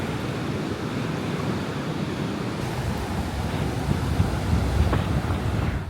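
Surf rolling steadily onto a quiet public beach in Puerto Rico, a broad continuous wash of waves with some wind noise on the microphone, swelling slightly louder toward the end, with no voices.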